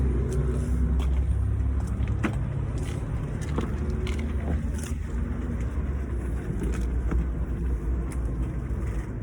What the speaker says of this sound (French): Attention à la voiture qui est derrière